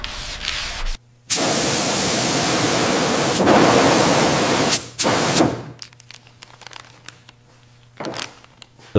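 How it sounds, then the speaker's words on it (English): Sanding the body of a Buick Skylark over fresh primer before paint: loud, steady abrasive rasping in two long passes, followed by a few shorter, scattered strokes. "Sanding again. We need absolute perfection for the paint."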